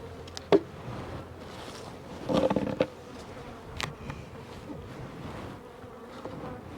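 Honey bees hum at a sparsely populated hive, a soft continuous drone broken by a brief louder buzz around a couple of seconds in and a few small taps.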